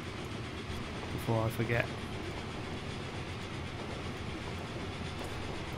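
Trains running in the video game Train Fever give a steady rolling rail rumble throughout, with a short higher-pitched whistle-like tone near the start and someone talking over it.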